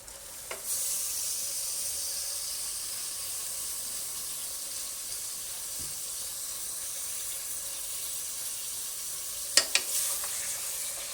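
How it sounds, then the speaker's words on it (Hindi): 700 grams of boneless beef hits light-brown onions in a hot pan over medium-high flame, setting off a loud, steady sizzle that fills the space, with a few clinks of utensils. "अब मैं इसमें डालने लगी हूँ 700 ग्राम बीफ, जो कि मैंने बोनलेस लिया है।"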